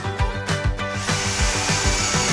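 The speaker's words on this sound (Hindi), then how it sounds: "मक्के को ड्रिल पर लगाओ।" Power drill spinning a corn cob mounted on its bit: a loud, steady motorized whir with a rhythmic thumping wobble and a rising high-pitched whine partway through.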